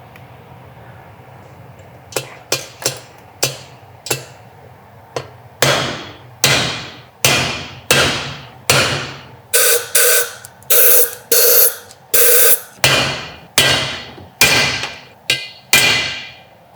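Valve seats hammered into the head of an Arrow C-96 oil field pumpjack engine, sharp metallic hammer strikes that start sparse and light, then come in a loud, steady rhythm of ringing blows, close by over faint background hum.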